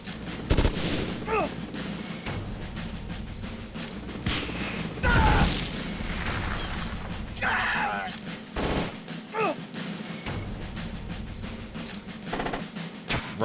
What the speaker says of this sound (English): Shoot hamster with your goddamn machine guns